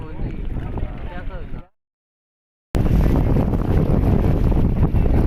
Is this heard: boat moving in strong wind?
yes